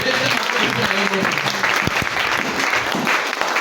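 A church congregation bursts into sustained applause during a Sunday service, dense clapping filling the room from start to end, with brief voices mixed into the crowd noise.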